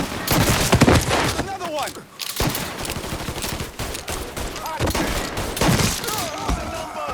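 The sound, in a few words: gunfire in the video game Mafia III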